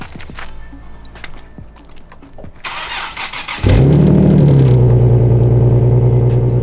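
A Nissan GT-R engine cold starts, cranking and catching, then settles into a loud, steady idle with a deep rumble, with no voices.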